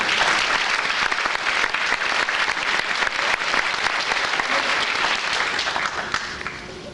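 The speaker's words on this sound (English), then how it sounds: "So she really deserves a round of applause too." An audience at an eighth grade graduation ceremony breaks into sustained applause, a bright, dense patter of many hands that stays full and steady before tapering off near the end.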